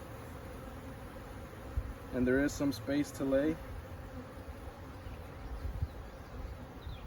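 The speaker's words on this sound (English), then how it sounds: "We've got some young bees on here." Honey bees hum steadily around an open hive during an inspection, a close continuous buzz with a person speaking briefly over it.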